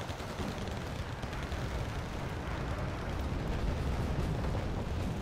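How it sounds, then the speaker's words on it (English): Artillery barrages pound positions in the real-time strategy game Wargame Red Dragon, a dense, continuous roar of overlapping explosions and rumbling blasts that stays loud and steady throughout, with no talk. "And there's the artillery just pounding the Montesquieuians."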